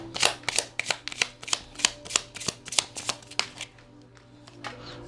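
Oracle cards from a divine timing deck being shuffled by hand, a rapid series of crisp riffling flicks and slaps that slows and fades toward the end, close and alone with no talking.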